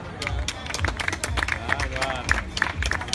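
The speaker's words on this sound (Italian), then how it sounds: "un bel applauso, grazie." Crowd applause on the podium at an athletics hammer throw award ceremony, rhythmic clapping and cheering outdoors with voices calling out over it.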